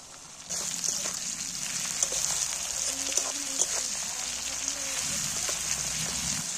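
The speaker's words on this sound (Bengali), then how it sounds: "এবার টমেটোগুলো, কাটা টমেটোগুলো তুলে দিচ্ছি।" Chopped tomatoes hit a pan of fried onions and start frying, a sudden rise into an even, close sizzle with scattered stirring clicks and pops.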